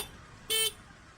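A single short horn honk, loud and brief, against quiet background noise.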